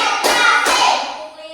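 A classroom of children claps together in rhythm, two sharp, loud group claps landing close together, followed by a fading ring of the room.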